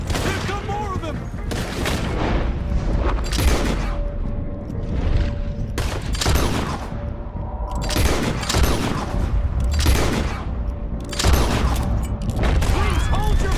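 Dense gunfire during a Red Dead Redemption 2 chase, a loud close fusillade of overlapping shots and booms repeating in bursts over steady rumbling noise, with voices shouting in between.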